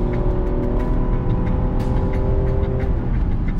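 Land Rover Defender 130 with a 396-horsepower engine accelerating while towing a 7,300 lb trailer, a loud, steady engine drone with a rising tone, heard close and continuous, no voices.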